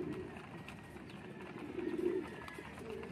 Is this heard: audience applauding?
no